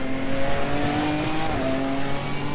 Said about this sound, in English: It's got a lovely rasp from this car,